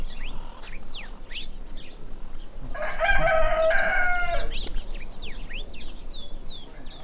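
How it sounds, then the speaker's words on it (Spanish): Guinea fowl calling on a farm among geese, ducks and turkeys, repeated sharp calls scattered throughout with a louder burst of raucous calling midway over low outdoor background. "esos gallinetitos son amorosos, están gritando todo el tiempo"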